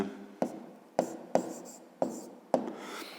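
A hand writes letters on paper while labeling a geometry pyramid exercise, six distinct close scratchy strokes spaced roughly half a second apart, each starting sharply and fading, with no talking.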